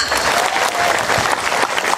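Loud, continuous applause from a crowd gathered for a humorous Sundanese religious lecture. Many hands clap in a dense, steady burst close up for about two seconds.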